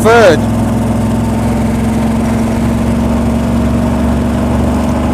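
A Duzgo off-road vehicle cruises in third gear on a forward side-valve gearbox, its engine a loud, steady low drone close by, with a brief voice at the very start.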